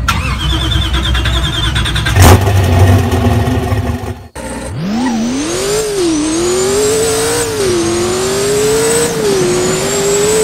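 Car in the Roblox game Driving Empire starts up and accelerates, a loud synthetic engine tone rising and wavering in pitch through repeated gear-like sweeps, alone without talk.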